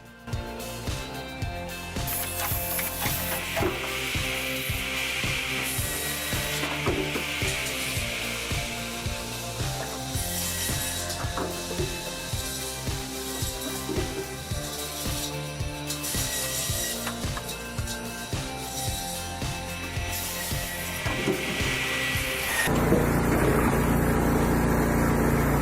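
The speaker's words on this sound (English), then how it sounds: "That is how industrial firewood processing should look." An industrial firewood processor sawing and splitting logs, with a loud, continuous mechanical roar and rhythmic clunking and grinding that persist throughout, growing heavier near the end.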